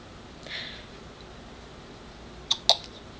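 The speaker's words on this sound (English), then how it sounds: "Hiccup." A baby hiccups twice in quick succession near the end, soft but distinct, after a quiet stretch with a faint breathy sound early on.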